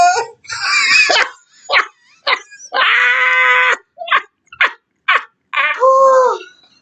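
A dog barks, yips and whimpers in a series of short, loud bursts separated by brief pauses, heard up close with no talking over it.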